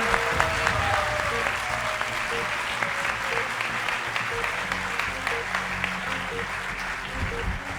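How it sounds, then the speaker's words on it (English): A spiritual gathering in London breaks into a sustained round of applause and cheering, steady dense clapping from a large audience with a faint tone and a voice underneath. "I think that deserves a bigger round of applause and a cheer."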